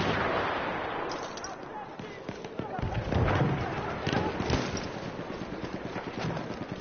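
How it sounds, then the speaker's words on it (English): Gunfire in the video game Battlefield 1, repeated shots and distant booming blasts of battle, uneven bursts mixed with game noise while someone talks over it. "shooting at me, and I can't pinpoint where they're at because they're not using a sniper"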